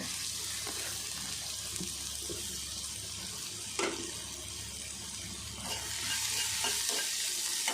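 Chopped jackfruit and onion sautéing in hot oil for a Tamil-style poriyal, a soft steady sizzle with occasional scraping stirs of a spatula, fairly quiet and close, with no talking.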